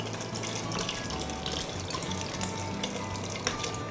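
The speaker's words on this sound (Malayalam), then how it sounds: "വെള്ളം ഏകദേശം അതിൻ്റെ കടലയുടെ മേലിൽ വരത്തക്ക വിധം ഒഴിച്ചു കൊടുക്കുക" Water pours in a steady, continuous stream over chickpeas in a pressure cooker, a close, even splashing rush that runs throughout without pause or talking.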